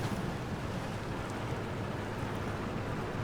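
A BTRGAZ armored vehicle plunging into water in the SnowRunner game, a steady loud rush and wash of churning water mixed with low engine rumble, continuous throughout.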